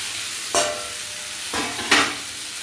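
Ginger, chopped tomato and two green chillies frying with onion and potato in a pan: a steady close sizzle with three sharp bursts of stirring and added ingredients, no voices.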